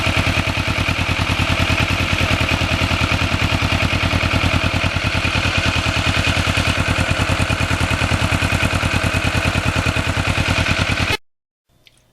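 A Kawasaki Ninja motorcycle's uneven-firing twin engine idles close by with a loud, steady, lumpy pulsing beat. The sound runs for about eleven seconds and then cuts off abruptly.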